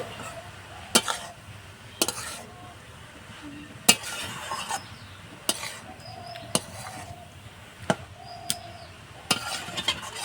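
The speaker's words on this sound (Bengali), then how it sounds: "ঢাকাটা তুলে আমি আবার নেড়ে দেবো" Grated carrot frying for carrot halwa, a soft low sizzle punctuated by regular sharp clicks and scrapes from a spoon stirring against the pan.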